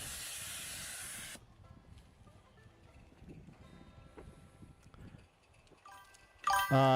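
A live steam garden railroad locomotive hisses loudly, then falls to a quieter low rumble with faint mechanical clatter, and a sharp burst of hissing steam returns near the end.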